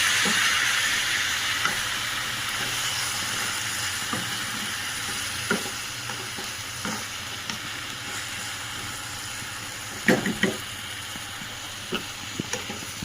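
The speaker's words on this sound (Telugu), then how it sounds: "టమాటా, కొత్తిమీర, పుదీనా, చింతపండు ఏవైతే వేసుకున్నామో అన్నీ కలుపుకోవచ్చు. బాగా కలుపుకోవాలి." Tomato, coriander, mint and tamarind stirred together in a hot pan for a tomato chutney: a steady close sizzle and hiss with soft scraping stirs and occasional clinks throughout.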